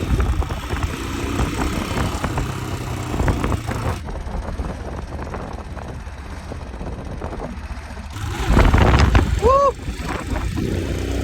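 Engine drone from a Himalayan motorcycle ridden along a mountain road toward Keylong runs throughout, mixed with wind buffeting, briefly dropping then surging louder near the end, while a rider talks over it.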